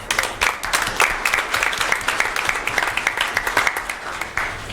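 An audience at a board of directors meeting claps in a round of applause, a close, dense patter of many hands that holds steady for several seconds before easing off.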